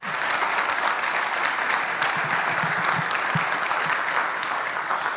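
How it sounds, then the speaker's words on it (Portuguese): A church congregation claps together during a sermon, producing dense, sustained applause at an even level across the whole stretch, with no talking over it. "Aplauda Ele, querido, honra Ele."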